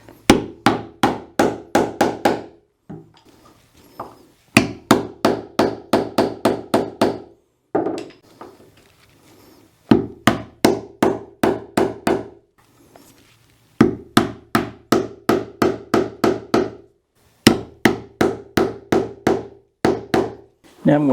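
Hammer tapping a wooden plug into hand-made wooden flooring: rapid bursts of five to eight sharp, ringing taps in quick succession, repeated in regular groups with short pauses between, loud and close.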